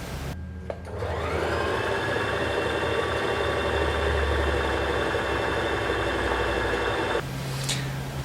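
A Brother JV 1400 sewing machine motor whirs up and runs steadily for several seconds with a fast mechanical hum, then stops abruptly.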